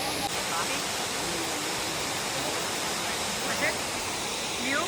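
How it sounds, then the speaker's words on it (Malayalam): A waterfall in Kodagu, a dense, even roar of falling water heard close and unbroken, with faint voices of visitors over it now and then. "ഓ അവിടെ ഫൈനലി നമ്മള് വാട്ടർഫോൾസ് കണ്ടു."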